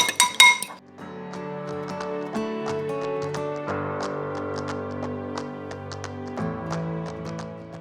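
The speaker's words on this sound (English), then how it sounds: "going to whisk up our eggs in a separate bowl" Eggs being whisked in a separate bowl, a quick run of bright metallic clinks against the bowl, close and steady, with a few louder taps at the start.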